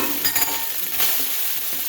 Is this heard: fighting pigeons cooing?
no